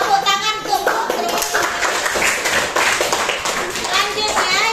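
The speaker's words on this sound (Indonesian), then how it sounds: "Tepuk tangan untuk Putri." Classroom children clapping together for a classmate, brisk close-up hand claps mixed with bright kids' voices chattering and calling out over the rhythm.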